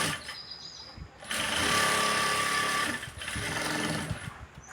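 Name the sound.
sewing machine stitching a blouse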